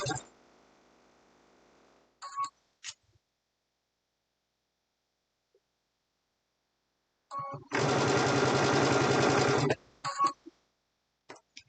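A sewing machine or serger stitches a pillowcase, running in a steady whirring burst of about two seconds, preceded by a fainter stretch of machine hum and scattered clicks and handling noises.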